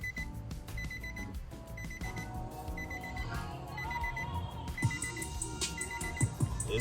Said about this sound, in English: Yeah, you gonna get that beeping because the door's open.